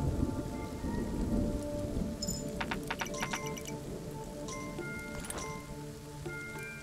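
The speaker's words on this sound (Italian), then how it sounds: "Guardate la pioggia." Rain hisses and thunder rumbles in the pirate video game Skull & Bones. The storm noise is steady and fairly loud, with a few sharp crackling strikes partway through, over a low musical bed.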